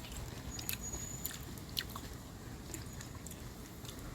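Fresh, juicy cucumber being bitten and chewed close up, a few crisp crunches and wet squishes scattered over quiet, soft mouth noise.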